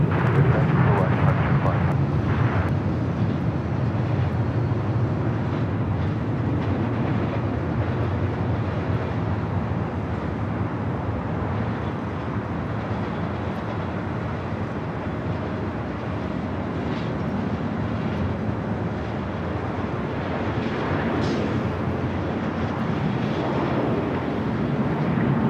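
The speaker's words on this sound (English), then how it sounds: "767 coming in from JFK, heading into the gates." Boeing 767 jet arriving at LAX from JFK and rolling toward the gates, a broad sustained rumble of jet engines, loud and steady, with faint voices mixed in.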